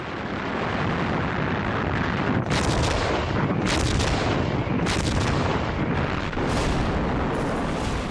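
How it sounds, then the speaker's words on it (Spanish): Allied artillery bombarding German defences in the North African desert during World War II rolls on as a constant heavy roar, broken by several sharp booming blasts, in loud archival battle sound with no talk. "La artillería de Rommel sufre un tremendo golpe."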